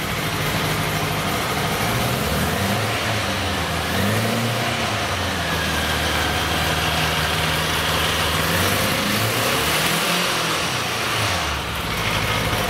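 A Honda Gold Wing with a 1000cc four-cylinder boxer engine runs close by, a loud, smooth mechanical drone whose pitch swells and dips through several rev changes, heard alone without talk.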